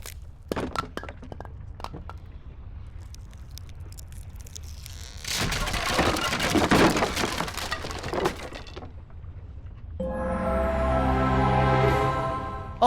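An object collapsing in the Galileo Mystery: The Crown of Midas game, heard as scattered knocks and thuds followed by a loud crashing, splintering burst, then a rising resonant rumble.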